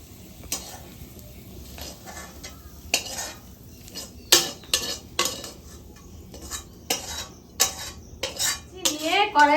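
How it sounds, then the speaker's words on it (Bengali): Fried chicken for chow mein is poured out of a wok, with repeated sharp metallic clanks and scrapes of a spatula against the pan over a faint sizzle, loud and close with uneven gaps. "দেখো আমার মাংসটা কিন্তু ভাজা হয়ে গেছে, আমি এবার এটাকে ঢেলে নেব।"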